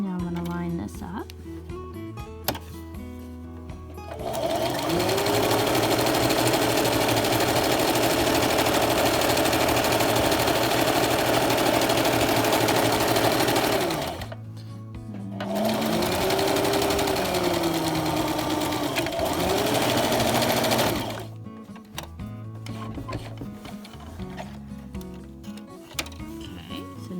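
A sewing machine stitches the sides of a fabric clothespin bag in two long, loud, steady whirring runs separated by a short pause. Quieter handling sounds come before and after.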